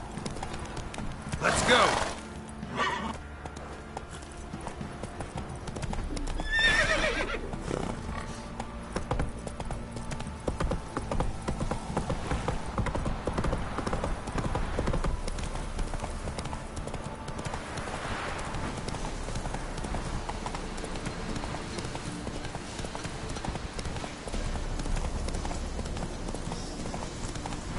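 Horse galloping in a Witcher video game, hooves clip-clopping in a steady rhythm under game ambience and a spoken voice, with a couple of louder whoosh-like bursts early on.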